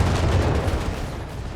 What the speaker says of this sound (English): It's 2 pounder gun firing away there